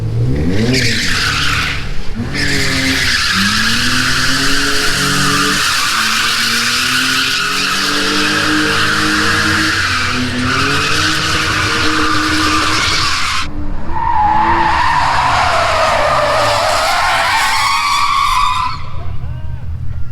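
A race car engine roars and shifts pitch as tires squeal in long, loud skids, the screech rising again near the end.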